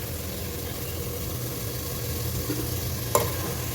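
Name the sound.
frying mustard oil and ghee with bay leaf and whole spices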